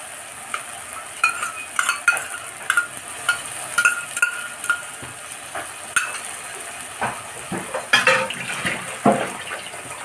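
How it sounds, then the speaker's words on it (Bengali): Beaten sour yogurt poured onto a fried spice mix in hot oil, giving a steady sizzle with sputtering pops and wet crackles over about ten seconds, close and without speech. "এই মশলাটার উপর এই সময় আমি টক দইটা ঢেলে দেবো।"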